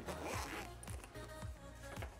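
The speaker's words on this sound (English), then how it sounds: "And this zipper is also matched to the accent color of the headphones themselves." A zipper being drawn open on a Sony WH-1000XM4 hard headphone case, a close, steady rasping pull with a few rhythmic tugs, heard alone.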